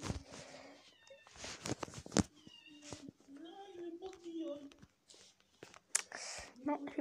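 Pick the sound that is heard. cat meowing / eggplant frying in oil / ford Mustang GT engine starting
cat meowing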